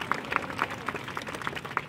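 A congregation at a Telugu gospel revival meeting claps in a steady rhythm, roughly eight even beats over a couple of seconds, fairly soft and slightly distant with no talking over it.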